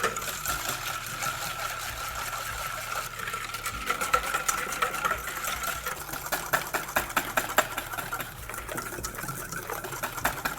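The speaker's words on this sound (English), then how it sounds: "Just whisk till your heart can or can't." A whisk beats sugar and vanilla paste together by hand in a bowl for a blackberry cobbler, a fast, steady metallic scraping rhythm that grows more insistent toward the end, close and without talk.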